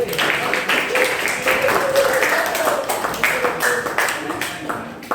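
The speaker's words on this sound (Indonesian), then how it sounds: "Oke, tepuk tangan dulu dong." Classroom applause from high school students, a steady wash of many hands clapping close by for the whole stretch, with voices mixed in.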